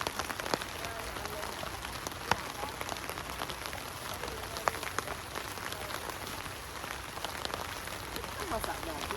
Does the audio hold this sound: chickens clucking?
no